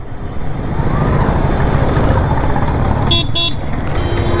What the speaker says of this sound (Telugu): ట్రాఫికే ఉంటుంది ఇక్కడ. పొద్దున వచ్చినా కూడా ఇంతే ట్రాఫిక్,